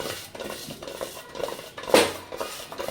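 A pressure cooker holding litti, the Bihari baked dough balls, is shaken over the stove, giving a soft irregular clatter of metal and rolling food, fairly quiet, with one sharper clank near the end.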